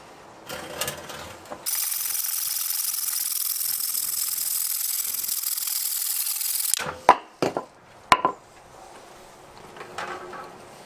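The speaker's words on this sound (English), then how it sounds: "So I hand saw it." A wooden knife handle block is cut with a hand saw, a steady rasping buzz that runs loud and continuous for several seconds, followed by a few sharp knocks and handling clatter.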